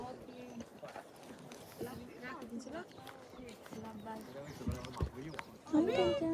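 Hooves clip-clop unevenly on a hard surface while people talk over them, with a horse snorting and moving close by.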